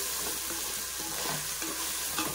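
Masala frying in a pan for veg biryani, with a steady dense sizzle and repeated stirring scrapes, close and continuous, with no speech.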